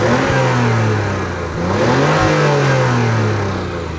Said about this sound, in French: on est sur un gros son bien lourd, bien comme il faut. Là, c'est du gros, hein. On est sur du gros 6 cylindres.